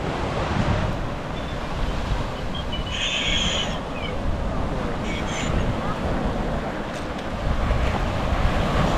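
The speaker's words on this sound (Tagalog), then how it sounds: "Napakalamig ng hangin oh" Strong cold wind buffets the microphone by a rough sea, with a constant roar of surf beneath and faint distant sounds now and then.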